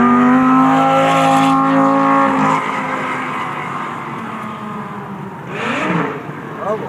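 A supercar engine on a driving experience, loud and close, revving high with a falling pitch sweep as it downshifts, then surging again briefly; a voice can be heard along with it.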